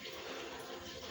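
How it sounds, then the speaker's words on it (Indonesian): A river on the Mount Slamet hiking trail rushing continuously, a dense steady wash of flowing water heard close and unbroken, with no talking. "kita ngelewatin sungai pertama"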